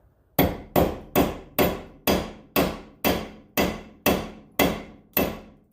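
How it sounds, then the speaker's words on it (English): A hammer strikes the nut threaded back onto a C5 Corvette tie rod end, giving eleven sharp, loud metallic blows at a steady rhythm of about two per second, each ringing briefly before the next. "we're going to throw the nut back on like that and then strike the nut"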